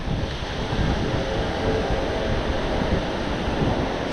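Ocean surf along a Southern California beach, with small waves rolling in over a flat spot without breaking, making a steady, continuous wash and roar with wind noise throughout and no voices.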